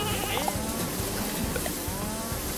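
Sheep bleat in the video game Lumberhill, several wavering calls over a steady, busy game soundscape, moderately loud and continuous.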